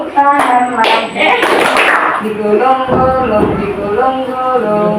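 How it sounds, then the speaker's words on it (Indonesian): A group claps along in a classroom game, sharp bursts of hand claps set between stretches of sung and spoken voices that lead the rhythm. "Buka, tutup, tepuk tangan lagi."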